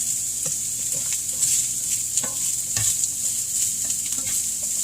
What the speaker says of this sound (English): I'm using some avocado oil to stir fry this in